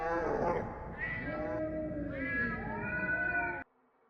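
A long, wavering cat yowl rises and falls in pitch for several seconds, loud and eerie, then cuts off abruptly into near silence.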